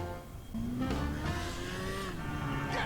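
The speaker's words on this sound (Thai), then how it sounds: "เสียงเครื่องยนต์นี่ก็ คุ้นๆครับผมไม่ได้เป็นเสียงใหม่ที่เพิ่มเข้ามานะฮะ" The Oppressor flying motorcycle from a video game starts up about half a second in: a low synthetic engine drone with a rising whine settles into a steady hum, loud and close, with no talk.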